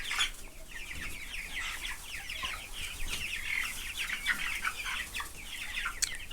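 Many young chickens in a flock of about 100 raised for sale cluck and chirp together in a busy, continuous chorus, close by and moderately loud, with no talking.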